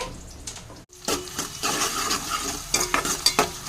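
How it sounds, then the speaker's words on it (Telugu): Onions frying in a pan for an ivy gourd (dondakaya) curry, giving a steady close sizzle with scraping stirs and several sharp utensil clacks against the pan. "ఉల్లిపాయలు అయితే ఫ్రై అవుతున్నాయి"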